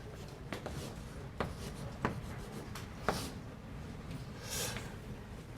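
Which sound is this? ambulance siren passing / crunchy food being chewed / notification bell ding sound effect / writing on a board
writing on a board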